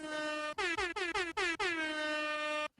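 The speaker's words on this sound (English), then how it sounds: "air horns for everybody." A loud, bright air horn sound effect blasts in a rapid series of short honks and then one long sustained blare that cuts off abruptly, with no voices.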